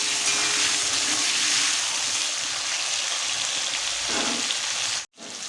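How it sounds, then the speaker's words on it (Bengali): Nigella seeds crackle and potatoes fry in hot oil with a loud, steady sizzle that barely changes. A brief dip into silence comes near the end. "কালো জিরেগুলো ক্র্যাক হচ্ছে, আলুটা হালকা ভেজে নিতে হবে।"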